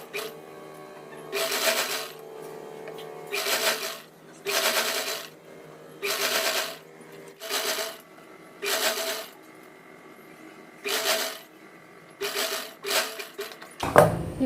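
A sewing machine stitching the leg of a Punjabi dress pant, running in about nine short bursts of rapid whirring separated by pauses, close and fairly loud, ending with a sharp clatter.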